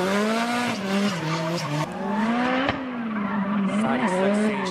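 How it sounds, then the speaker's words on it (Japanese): A Nissan Silvia S13 drift car on a Formula Drift Japan test run screams at high revs, its engine pitch rising and falling through gear changes over squealing tires, with a commentator talking underneath. "S13 シルビアの1本目の走りであります"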